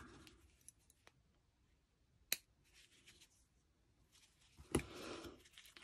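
Scissors trimming the end of a baby stacking cup, giving a couple of sharp, isolated snips against a quiet background, with faint rustling between the cuts.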